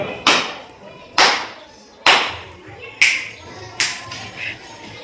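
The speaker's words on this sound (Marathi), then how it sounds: "बघा 3 टाळ्या वाजल्या आणि 2 चुटक्या." Five sharp hand sounds ring out at roughly one-second intervals in a classroom counting game, three hand claps followed by two lighter finger snaps, each crisp and close with a short room echo.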